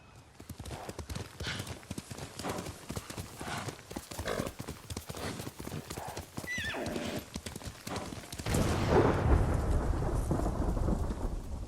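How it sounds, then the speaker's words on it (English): Horse hooves clop steadily in Ghost of Tsushima with an occasional whinny, then heavy rain and rolling thunder swell up in the background. "You're a good horse, Noble."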